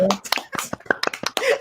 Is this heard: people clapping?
yes